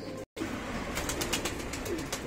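Breeding pigeons coo steadily, close and fairly loud, with a continuous murmur of cooing from several birds and a brief dropout near the start.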